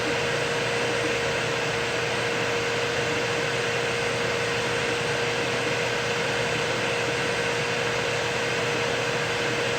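A Yeti SmartBench CNC router cuts Rowmark sheet at a sped-up feed rate, a steady loud whine and whirring drone with a constant tone, unbroken throughout.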